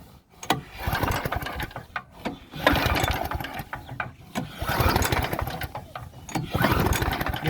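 Chokeless lawn mower engine being started, with repeated pulls giving rough sputtering catches and bursts of engine noise that fire unevenly at close range, without settling into a steady idle.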